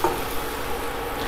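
Chopped garlic and shallots fry in a pan with a steady, close, even sizzle and light stirring, no voices over it.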